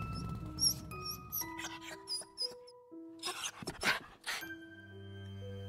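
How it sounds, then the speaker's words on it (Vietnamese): A dog whines and then barks in a ghost-story narration, set against sustained tonal music. Several sharp bark-like bursts come near the middle, with softer whimpering before them. "Nó rên lên ư rồi sủa."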